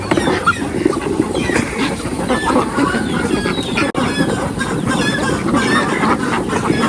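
A large flock of ducks honking and quacking continuously, dense overlapping calls close by with steady outdoor background noise.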